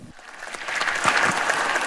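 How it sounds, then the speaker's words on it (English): In the Senate chamber, lawmakers burst into applause for a Kentucky Republican senator after his speech, the clapping swelling quickly over a couple of seconds into a full, dense ovation. "After his speech, the chamber erupted in applause in tribute to the Republican lawmaker from Kentucky"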